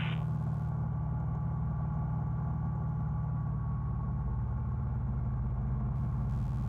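Challenger II light sport aircraft engine droning steadily in flight with the throttle pulled back, a loud continuous low rumble heard from inside the cabin, with no voices.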